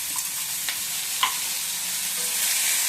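Ridge gourd sautés in hot oil in a kadai, giving a steady, close sizzle and hiss with a few light scrapes of stirring.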